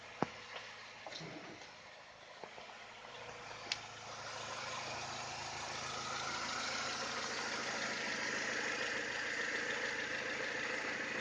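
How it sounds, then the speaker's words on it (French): A car engine idles steadily at normal operating temperature with the bonnet open, a low continuous rumble with a few faint clicks early on and a slowly rising hiss, no talking. "Là, la voiture tourne."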